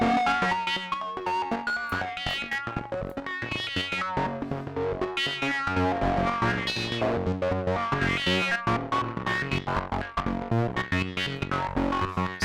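A Sequential Pro 3 synthesizer plays a rhythmic sequence through a nasal band-pass filter with gritty distortion, steady and loud with shifting tone.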